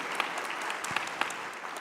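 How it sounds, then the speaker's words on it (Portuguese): A church congregation bursts into brief, lively applause, many hands clapping together with a few crisp claps popping out near the end of the short burst. "uma salva de palmas."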